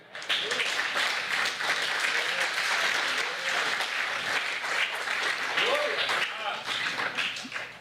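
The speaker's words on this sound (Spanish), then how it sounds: "Yo creo que Torito quiere darle un aplauso al Señor, hombre." A church congregation claps steadily and loudly for the Lord during a sermon gathering, the dense applause sustained throughout with voices mixed in.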